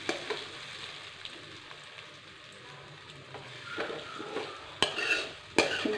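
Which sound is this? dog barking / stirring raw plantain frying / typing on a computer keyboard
stirring raw plantain frying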